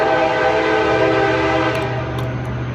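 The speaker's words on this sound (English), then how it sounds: "We had a train that was pretty loud coming past down the road here." A loud train rumbles past down the road with a sustained, steady horn blast, heavy low rolling noise filling the air throughout, close and dominant.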